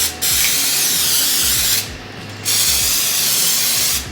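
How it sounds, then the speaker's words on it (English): Two long, loud hissing bursts of aerosol cooking spray onto pans, close up, separated by a short pause, then a final tapering hiss. "We're gonna spray the pans."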